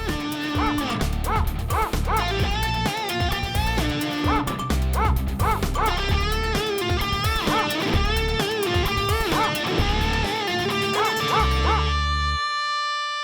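A dog barks and whimpers in a Telugu film scene, its yips and whines set against loud, continuous background music that fades out at the end.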